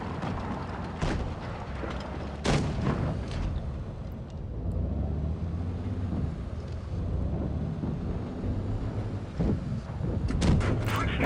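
The VK 30.02 M tank in a tank video game fires its cannon, heard as several sharp, booming reports spread across steady engine rumble, with a voice talking in between.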